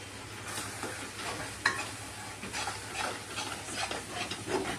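Raw mango jam is stirred in a pan without oil or ghee, with turmeric going in. A spoon scrapes and knocks against the pan in an irregular rhythm over a soft, close bubbling sizzle.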